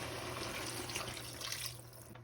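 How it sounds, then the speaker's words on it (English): Tap water runs into a sauce jar that held tamarind cooking and dipping sauce, a steady splashing rinse that stops near the end. "And I'm rinsing out the jar."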